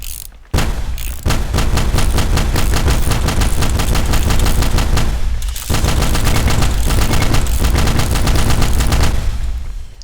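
A gun in the video game Teardown fires nonstop at a very rapid rate, a dense, loud, continuous stream of shots that breaks off only briefly twice, with no talking.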